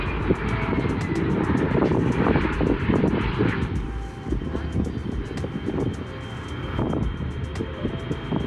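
A fixed-wing airliner arriving at the small Whitehorse airport terminal in Yukon gives a steady, loud engine roar and whine that holds throughout, with no talking over it.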